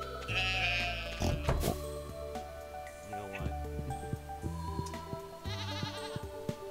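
Sheep bleating in the farming game Stardew Valley, a couple of short wavering bleats over background game music and chimes, with voices talking throughout.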